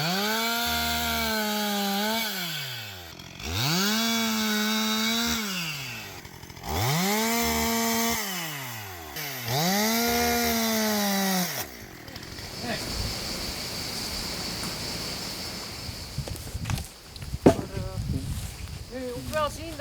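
A chainsaw cuts down tall, long-dead acacia trees on a rural farm in Italy, revving up and down in four strong cycles close by, then idling quietly under light rustling while people talk.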